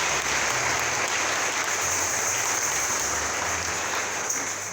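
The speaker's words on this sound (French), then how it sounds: "Sous vos acclamations." Church congregation giving a guest minister sustained applause, a dense steady roar of many hands clapping without a break.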